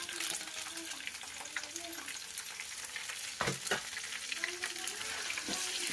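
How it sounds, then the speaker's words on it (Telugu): Potato pieces frying in hot oil with fried ginger-garlic paste, a steady close sizzle with a few sharper crackling bursts midway and faint stirring, no talk. "తర్వాత మనము ఆలుగడ్డలు అనేది వేసుకోవాలి."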